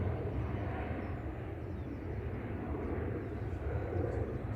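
A Boeing 737-800 jet departs Manchester Airport, its steady engine roar sounding moderately distant and holding even throughout, with no voices.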